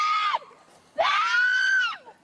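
A woman screams loudly while being carried by police officers, two long, high, strained cries close up, the second held for nearly a second before trailing off.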